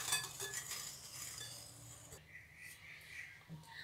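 Flour, cocoa powder and baking powder being mixed in a bowl for chocolate cupcakes, heard as quiet, scattered clinks and scrapes of a utensil against the bowl, close by and soft.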